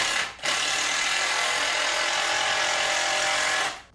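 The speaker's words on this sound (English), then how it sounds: "I will be drilling into the sawhorses" A power drill drives into wooden sawhorses close by with a loud, steady high-pitched whine. A short burst comes first, then a pause, then one sustained run of about three seconds before it winds down.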